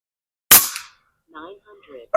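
A single sharp, loud crack from a Barra 250Z air rifle firing a pellet or slug, followed by a short decay, then someone speaks briefly afterward.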